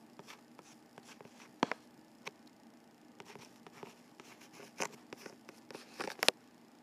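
Pen or pencil scratching across paper in short bursts and strokes, quiet and close, with a few sharper taps as the word erythrocyte is handwritten.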